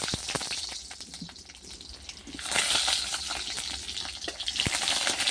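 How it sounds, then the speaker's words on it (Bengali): Salted, turmeric-coated eggplant pieces fry in hot mustard oil in a kadai, giving a steady close sizzle that swells louder midway and keeps crackling with small pops and no voices. "বেগুনগুলো ভেজে নেবো।"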